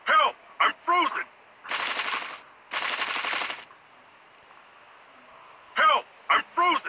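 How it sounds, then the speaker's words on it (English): Automatic gunfire from a multiplayer shooter video game comes in two dense, loud bursts, each about a second long. A player speaks excitedly just before and just after the bursts. "Is that guy shooting at me?"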